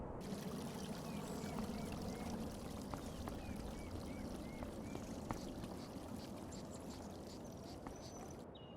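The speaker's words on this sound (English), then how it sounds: "It's a lovely waterfall just back there" Steady rushing water from a waterfall in the video game Farming Simulator 25, a constant even wash of noise at moderate distance with faint bird chirps above it and no talking.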